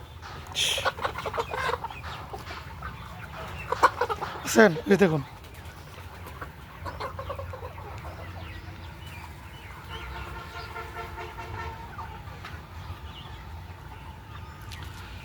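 Farm chickens cluck and squawk in several loud bursts near the start, then settle into quieter background clucking, with someone talking between the calls.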